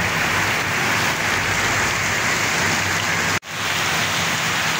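A heavy downpour roars steadily and close, a thick unbroken hiss of rain, briefly cut by a sudden short dropout near the end before resuming.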